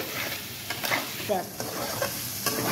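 Spices sizzle in hot oil while a spoon scrapes and stirs the pan in a few quick strokes, close and moderately loud.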